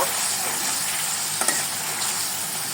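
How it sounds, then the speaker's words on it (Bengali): Spice masala with turmeric and salt being stir-fried in oil for a pabda fish curry, a close, steady hiss of frying with a brief scrape of stirring partway through, and no talk. "এবার সবগুলো মশলা ভালোভাবে কষিয়ে নিব"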